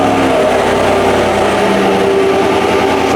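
A Chevrolet Silverado Trail Boss pickup with what appears to be stock exhaust idles steadily nearby, a continuous engine drone holding level throughout with no talk over it.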